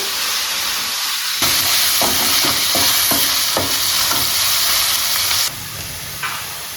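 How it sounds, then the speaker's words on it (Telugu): Onions frying in a pan until brown, a loud close sizzle and hiss with a run of quick scraping stirs in the middle, the frying easing slightly near the end with no speech. "ఉల్లిపాయలు వచ్చేసి బ్రౌన్ కలర్ అయ్యేంత వరకు మగ్గించుకోవాలి."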